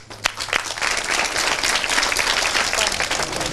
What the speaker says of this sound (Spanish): Un fuerte aplauso, pues.